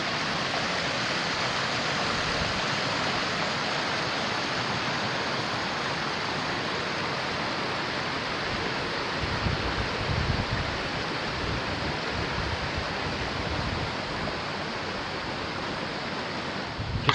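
A series of river rapids and a waterfall in the Boundary Waters wilderness roar in a steady, dense rush of water that stays constant and fairly full for the whole stretch, with no other sounds standing out.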